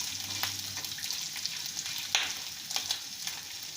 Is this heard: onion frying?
yes